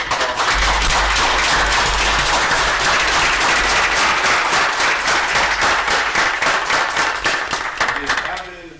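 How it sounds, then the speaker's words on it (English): Loud, sustained applause fills a city council meeting chamber as a crowd claps continuously, dense and close, before tapering off at the end. "Let's give them a round of applause."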